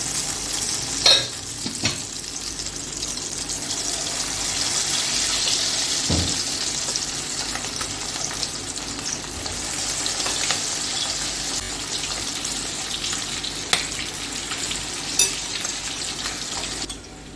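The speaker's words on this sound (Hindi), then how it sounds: "चिकन को मैं पहले फ्राई कर देती हूँ जो मैरिनेट किया हुआ था।" Marinated chicken pieces fry for chicken Manchurian in a continuous hissing sizzle that swells and settles. A few sharp clinks and knocks of utensils cut through, and no one talks.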